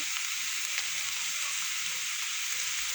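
Meat frying in a pan with mushrooms gives a steady, close, bright sizzle, with faint scraping as it is stirred; no voices.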